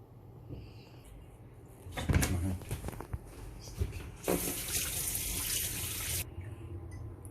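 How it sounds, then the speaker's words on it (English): Warm water, about half a cup, poured into a chimichurri mixture of finely chopped garlic and juice, giving a steady splashing gush for around two seconds after a few faint kitchen clatters. "You can add some warm water, which is about half a cup."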